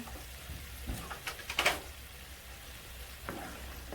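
Noodles with a knob of butter and salt are stirred in a pan, giving a low background sizzle and a handful of soft utensil scrapes and knocks, clustered mid-way then one more later; quiet, no speech.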